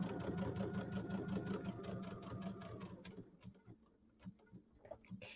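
A sewing machine stitches a narrow seam around a mini quilt, its needle chattering in a fast, even rhythm up close, then slowing into separate ticks and clicks as the stitching stops.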